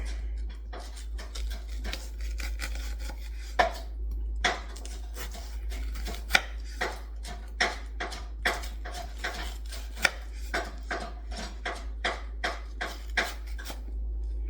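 A knife slicing food for guacamole on a cutting board, a series of quick, light taps and cuts in irregular bursts, close and fairly quiet over a low steady hum, with no talking.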